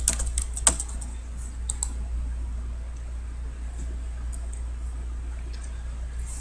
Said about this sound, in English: type in, I'm going to put in my credentials here